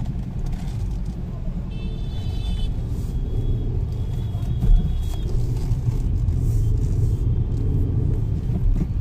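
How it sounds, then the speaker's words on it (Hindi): A Maruti Suzuki Brezza engine under hard acceleration in city driving rumbles steadily and loudly throughout, a deep continuous drone with road noise, with no talking. "अभी मैंने हाई एक्सेलेरेटर दिया, यानी बहुत तेज प्रेस किया"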